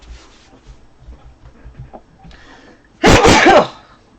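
A single loud, explosive human sneeze bursts out near the microphone after a few seconds of quiet room sounds and soft rustling.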